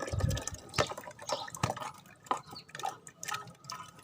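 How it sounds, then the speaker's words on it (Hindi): Falsa berries and water splash and drip as they are poured into a juicer jug, with uneven sloshing and a few sharper plops, close and fairly quiet. "ये जो बाकी फ़ालसा हमारे पास है, ये इसको हम पानी समेत जूसर के जग में डाल देंगे।"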